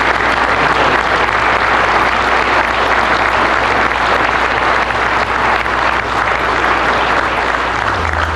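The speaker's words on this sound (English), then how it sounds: "let's give once again a round of applause to the judges" Sustained, dense applause from a large conference audience honoring contest judges, loud and continuous without pause for the full length.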